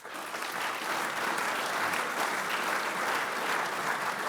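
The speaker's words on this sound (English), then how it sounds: "I also want to ask you all just to put your hands together to give Ellie, Steve, Georgina, and our host" Audience applause at a sustainable-business forum presentation: dense, steady clapping from a sizeable crowd, loud and continuous throughout with no speech on top.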